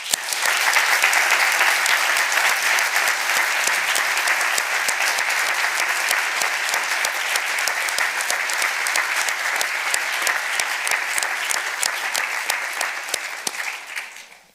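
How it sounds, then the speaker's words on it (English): Sustained applause from the audience at a Model United Nations opening ceremony, dense and even clapping that fills the hall for about fourteen seconds before cutting off, with no talking. "Please let them hear your applause"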